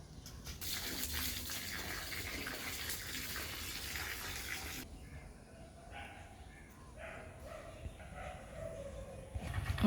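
Water gushing from a pipe in a strong steady stream that cuts off partway through, leaving quieter splashes and drips, with a dog barking and people talking faintly in the background.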